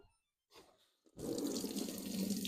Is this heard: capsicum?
no